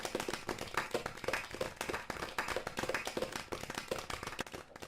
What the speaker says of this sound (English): let's please everybody give a big round of applause